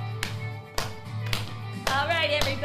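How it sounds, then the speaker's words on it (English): Children in a dance class clap their hands, giving four sharp, evenly spaced claps over steady background music. "Clap it out."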